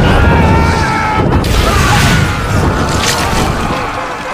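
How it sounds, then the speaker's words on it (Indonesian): Artillery shelling in a war film about American troops fighting on Saipan, a loud, continuous roar of blasts and crashing debris that fades slightly toward the end. "tiba-tiba mereka diserang artileri."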